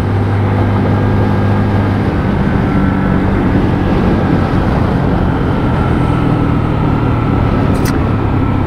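A Lexmoto ISCA motorcycle cruising at a steady 41, its engine a constant loud drone with wind rush throughout, no change in pace.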